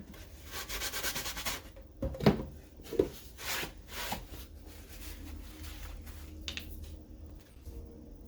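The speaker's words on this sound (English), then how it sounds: "I used some pretty heavy grit sandpaper and I sanded the heck out of it" Heavy-grit sandpaper rubs over a wooden box, with quiet scratchy strokes in uneven bursts and a few sharper knocks or scrapes, close by and with no talk.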